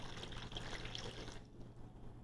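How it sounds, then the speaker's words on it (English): Water pours steadily into a bowl while mixing saltwater fish chum, a close splashing stream that runs for over a second and then stops, leaving quieter dripping. "add a little bit of your water"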